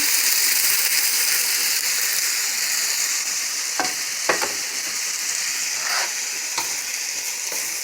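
Rice tipped into a hot frying pan for egg fried rice sizzles steadily and loudly throughout, with a few sharper scraping stir strokes breaking through the constant hiss.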